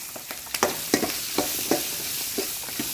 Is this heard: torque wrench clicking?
no